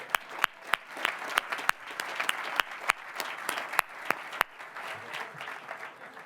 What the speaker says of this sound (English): But we do owe Jack a big round of applause.